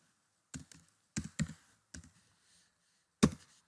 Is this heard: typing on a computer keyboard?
yes